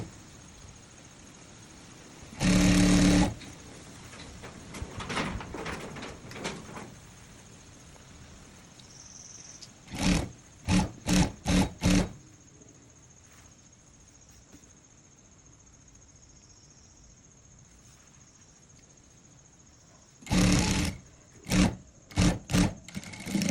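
A sewing machine stitches the side seam of a princess line blouse in short bursts, a loud run near the start, then clusters of quick runs around the middle and at the end, separated by quiet pauses.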